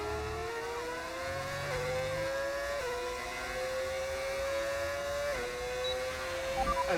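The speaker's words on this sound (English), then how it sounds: "What engine sound do I have installed? The V8s." A V8 racing engine in a Formula One-style racing video game drones steadily at high revs, its pitch climbing and then dropping with a few gear shifts, loud and continuous throughout.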